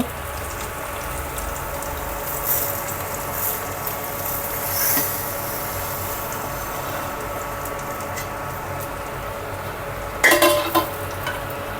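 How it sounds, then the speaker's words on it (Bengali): Raw rice is stirred and fried in a pot for khichuri, giving continuous close scraping and light sizzling with a few louder clattering strokes, including a sharp burst near the end. No one talks. "এবার চালটা আমরা সুন্দর করে ভেজে নিব"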